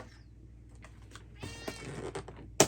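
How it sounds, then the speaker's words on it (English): A house cat gives a short, quiet meow indoors amid faint tapping and rustling, followed by a sharp knock at the end. "Meow meow kitty."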